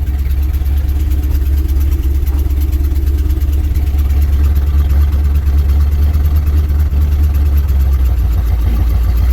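A 1967 International 4x4 truck with a high idle runs steadily as it starts to drive, a loud, continuous low engine rumble close to the microphone with no talk.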